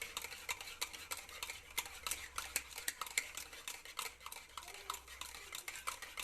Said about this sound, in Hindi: मुसलसल मिक्स करते रहेंगे, अच्छे से इसे मिक्स करेंगे 5 to 6 मिनट्स